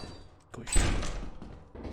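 A door in the Lethal Company video game is unlocked and opened with a key, giving a short clunking thud with a sliding rattle in the middle of the clip, while players talk around it.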